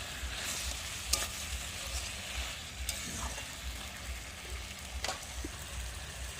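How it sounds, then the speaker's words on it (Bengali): Chili powder stirred into a hot pan while cooking Kadaknath chicken, sizzling and frying steadily up close with repeated scraping stirs and a few sharper clicks of the spoon. "দিয়ে দিচ্ছি 2 টেবিল স্পুন গুঁড়ো লঙ্কা"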